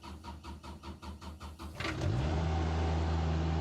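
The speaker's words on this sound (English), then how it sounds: "So first thing we got to do is get the excavator going." An excavator engine cranks with a steady rhythmic starter churn for about two seconds, then catches and settles into a loud, close, even idle.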